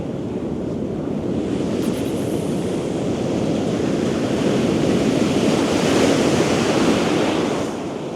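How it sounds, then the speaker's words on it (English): Ocean swell breaking on a fishing beach, a continuous loud wash of surf with gusty wind noise over the mic and no voices. "Quite a swell coming in actually."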